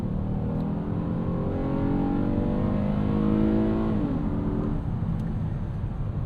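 A 3.5-litre V6 Honda Odyssey minivan pulls out of a corner, its engine note climbing steadily in pitch from inside the cabin, then dropping sharply as the gearbox shifts before rising again under a steady road roar.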